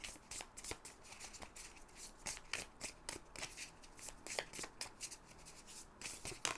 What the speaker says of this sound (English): And so I'm shuffling all of them, and then we'll begin.